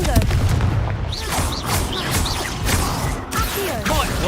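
Confringo blasting spell explosions in the Hogwarts Legacy video game, a loud run of booming blasts and crackling impacts with repeated whooshing spell sounds over a busy battle din.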